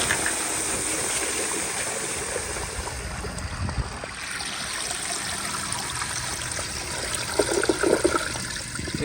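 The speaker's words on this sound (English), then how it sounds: "Here's the flush, full pressure." A Universal Rundle Colby urinal flushes at full pressure, a loud, close rush of water that pours steadily and then gurgles and trickles as it siphons, with no speech.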